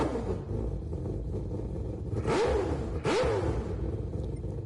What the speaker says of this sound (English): The sound effects of this car